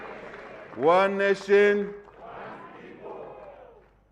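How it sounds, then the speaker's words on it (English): A crowd at a Zambian independence anniversary celebration roars in a loud unison shout that swells and breaks twice. Then a softer, lingering murmur of cheering and voices follows. "to give a round of applause to these gallant citizens who worked to deliver freedom for us today. Let's clap for them."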